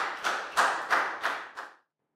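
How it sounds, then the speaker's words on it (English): A small group of pupils clapping for a classmate in a primary school maths lesson, five slow, rhythmic, fairly close claps in unison that stop abruptly, followed by silence. "Big round of applause for Prel"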